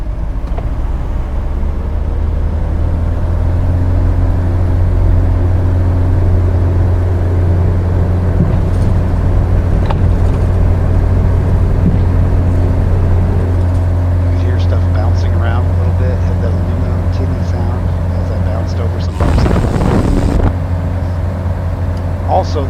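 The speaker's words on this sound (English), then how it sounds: "you can hear what it sounds like getting up to rolling speed and the sounds the airplane makes in ground effect" Aircraft in Microsoft Flight Simulator 2024 with the FSRealistic+ sound mod rolling down a runway toward takeoff speed, a loud, steady low engine drone with rumble throughout, a brief louder broadband burst near the end.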